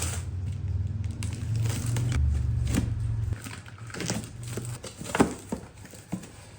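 Packaging around a pair of Harbor Freight Daytona 3-ton jack stands being cut open, giving close crinkling, crackling and rustling over a low hum, with a few sharper snaps toward the end.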